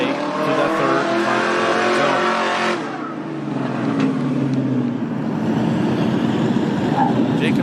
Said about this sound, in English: Now flicking that car sideways as he makes his way through that third and